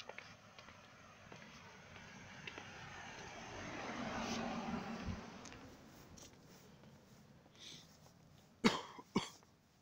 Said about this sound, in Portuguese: tem que tomar alguma coisa dessa minha tosse